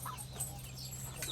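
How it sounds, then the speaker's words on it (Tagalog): Fairly large roosters and hens in their pen give brief, faint clucks over a low steady background hum. "At yan yung mga tandang at mga inahin."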